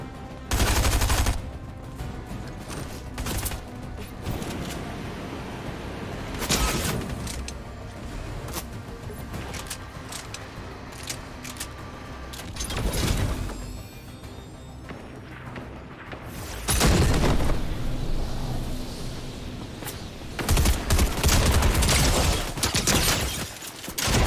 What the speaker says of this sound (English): That's Dr. Sloan shooting me, isn't it?